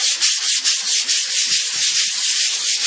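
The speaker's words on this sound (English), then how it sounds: "You just sand it until you get everything smoothed off like you want it" Steady, rhythmic hand sanding on the body of a 1988 Cadillac DeVille, a loud, close, hissing rasp with regular back-and-forth strokes and no talking.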